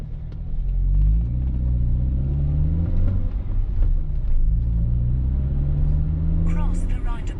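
Steady low engine rumble of a car being driven on the road, loud and continuous throughout, with a short higher squeak near the end.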